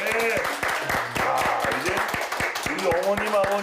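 Village audience applauding a knee-health lecturer, brisk clapping that runs throughout while people talk over it loudly at close range.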